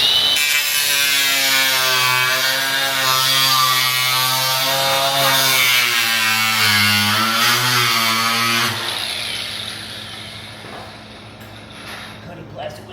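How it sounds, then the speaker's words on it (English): A grinder cuts into plastic with a loud, harsh, pitched whine that wavers as the blade bites, then stops abruptly, leaving a quieter background. "Cutting plastic with the grinder sucks."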